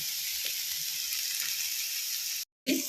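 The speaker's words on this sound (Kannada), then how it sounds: "ಇವಾಗ ನಾನು ಡೈರೆಕ್ಟಾಗಿ ಹುರಿಲಿಕ್ಕೆ ಹಾಕ್ತಾ ಇದ್ದೀನಿ." A grated ingredient fries in a pan for egg sambar, giving a steady, close hiss of sizzling oil that runs throughout, with a few soft stirring knocks and a short dropout near the end.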